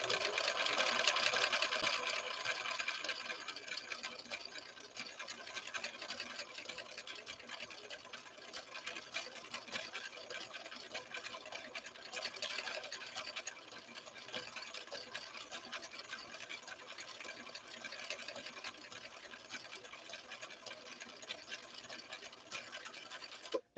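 A 1970s Viking Husqvarna 6030 sewing machine stitching with a steady, fast mechanical whir and ticking, fairly faint and continuous.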